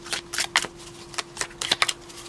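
A deck of tarot cards is shuffled by hand, giving a string of quick, crisp riffling bursts with short pauses between them, close and moderately loud.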